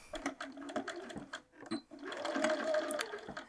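A sewing machine stitches the side seam of a fabric bag in short close bursts that settle into a steadier run, fairly quiet overall.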